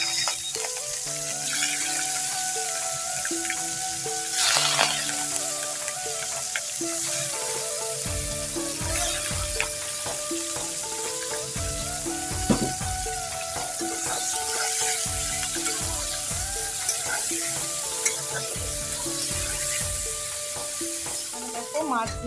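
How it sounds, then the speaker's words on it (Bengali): Small unshelled prawns or fish frying in oil in a pan, a dense continuous sizzle with stirring scrapes and rhythmic knocks from about the middle onward, close up and with no one speaking. "এখানে দেখো মাছগুলো ভেজে নিচ্ছি।"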